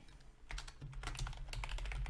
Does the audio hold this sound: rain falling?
no